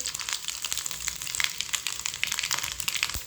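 Mustard seeds and dried red chillies crackle and sizzle in hot oil for a tempering, a dense, bright, continuous frying hiss heard up close with no voices.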